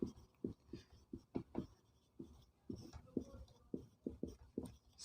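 Chalk or marker strokes on a board during a Hindi-language class 12 physics lecture, a steady series of short tapping, scraping strokes up close with no talking.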